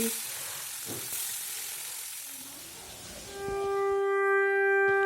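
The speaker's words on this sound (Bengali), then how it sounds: "কড়াইয়ের মধ্যে তেলটা গরম হয়ে গেছে মাছগুলো দিয়ে দিচ্ছি" Singi fish frying in hot oil in a kadai (wok) gives a loud, steady sizzle throughout, and a sustained tonal ringing joins it over the last couple of seconds.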